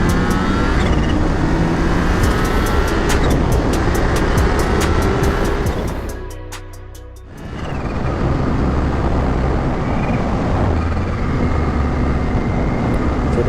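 Supercharged Kawasaki Ninja H2 motorcycle being ridden, a loud continuous engine and wind roar that briefly drops and dips around the middle before surging back to a sustained high-pitched drone.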